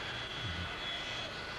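Papal jet aircraft taxiing at O'Hare International Airport in Chicago, a faint, steady jet engine whine and rumble heard from a distance for under two seconds.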